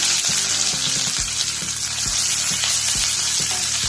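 Finely chopped onion frying in oil with cumin and curry leaves for rava kozhukattai, a loud, steady close sizzle punctuated by regular low thuds, like a spoon stirring against the pan.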